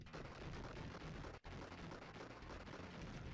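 Grenade blasts and gunfire in the retro game James Bond 007: The Duel, a dense, continuous roar of explosive rumble with one sharp cut partway through.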